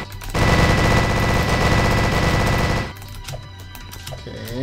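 A minigun in the Roblox game Jukebox Tower of Hell (JTOH) fires in one loud, continuous rattling burst for about two and a half seconds, then cuts off to quieter game sounds.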